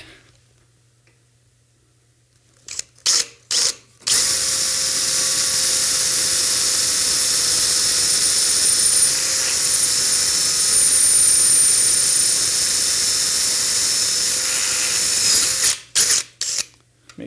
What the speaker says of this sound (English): let's go ahead and drill it